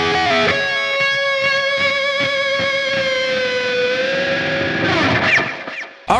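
An electric guitar played through a Hotone Ampero One multi-effects processor, a sustained distorted note with echoing repeats and dense harmonics, loud and alone, ending in a swelling warble before cutting off.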